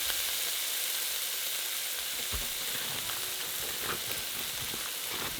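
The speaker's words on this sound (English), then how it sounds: "So now we're going to start cooking off our beef." Mostly thawed beef frying with browned onions and garlic powder in a pot for keto taco soup, a dense continuous sizzle and crackle at steady loudness with occasional soft pops, no talking.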